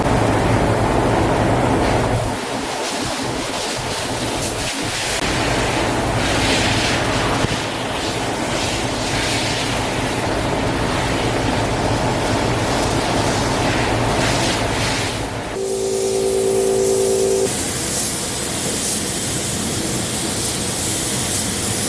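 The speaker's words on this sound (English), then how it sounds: "Get this booth turned on, get the fans flowing, and get this floor wet," Paint booth fans running for a truck bed paint job, giving a steady, loud broadband rush of moving air that continues throughout with no talking.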